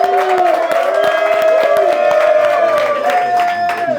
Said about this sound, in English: I want to give a big round of applause to Jersey Jerry.